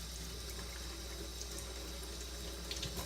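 Tap water running in a sink while colossal shrimp are deveined, a faint steady stream with a few light splashes near the end, no one talking.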